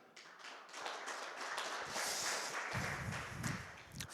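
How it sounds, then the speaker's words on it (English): A handful of audience members at a fan convention clap briefly in a hall, a thin, scattered patter of applause that swells and fades, fairly faint and distant. "Just applaud if you have."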